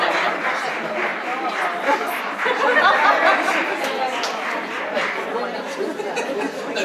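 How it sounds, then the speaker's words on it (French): An excited crowd chatters and laughs at the back of an auditorium, a dense, continuous babble of many voices at fairly close range. "On a une foule en délire au fond de la salle."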